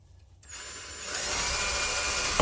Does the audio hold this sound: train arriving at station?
no